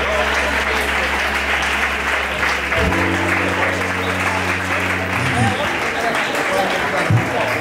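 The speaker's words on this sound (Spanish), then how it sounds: "Dale un fuerte aplauso a su palabra." Congregation applause in a church during a preaching event, steady dense clapping over sustained organ-like keyboard chords and a voice speaking over it.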